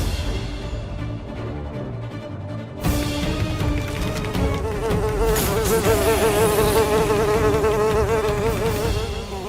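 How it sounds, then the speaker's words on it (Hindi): A giant fly buzzing loudly and continuously near an opened door, a steady droning whine that swells after a sudden start and wavers in pitch. "ये महामक्खी जरूर भागने की कोशिश करेगी"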